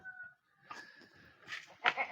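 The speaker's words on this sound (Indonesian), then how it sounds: "Kita kepoin langsung kambing-kambing saya yang ada di sini." Goats in their pen let out a faint, quiet bleat or two, with soft shuffling and low background noise around them.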